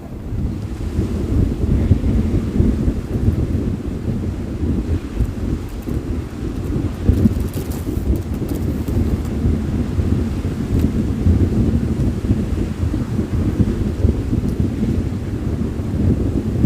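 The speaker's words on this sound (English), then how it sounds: "Oh my god, the wind is hella strong." Strong wind buffets the microphone outdoors on a quick roadside stop, a continuous low roaring rumble with gusty surges that never lets up, with no talking over it.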